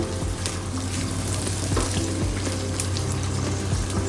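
Onion softening in a pan on a stove, a steady close sizzle and crackle of frying throughout with faint clinks, before hilsa fish is added for frying.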